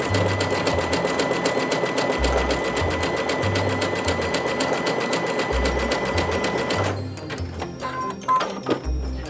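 A sewing machine stitches a wide 7.0 zigzag for a thread crystal embellishment, running in a fast, steady mechanical chatter for about seven seconds before stopping, followed by a few light clicks and handling noises.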